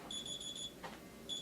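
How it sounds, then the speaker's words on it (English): Phone alarm going off during an indoor therapy session, a quiet high electronic beeping tone in short repeated bursts with a brief break, over faint room noise and no talk. "Let me turn that off. My alarm."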